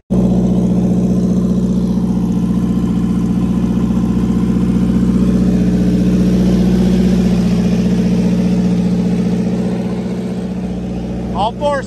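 A car raised on four jack stands runs in gear with its wheels spinning freely in the air, giving a steady, loud engine drone with a whirring tone that eases off near the end, then a brief clatter.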